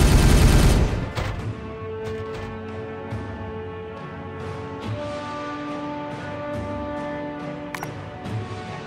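A heavy burst of gunfire opens in the Warhammer 40K Regicide forest clearing battle, then fades into sparse sharp shots over a sustained tonal game ambience.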